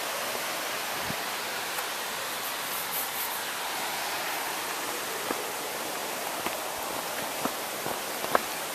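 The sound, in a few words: small waterfall beside a trail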